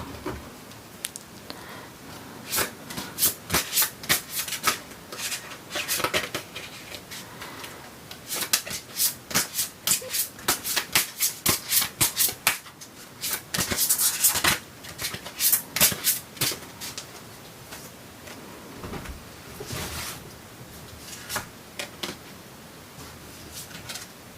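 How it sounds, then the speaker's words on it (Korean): Tarot cards are shuffled and drawn by hand, with bursts of rapid riffling patter and crisp flicks, loud and close, coming in clusters with brief pauses between handfuls and no one talking. "추가 카드 한 장 뽑아볼게요"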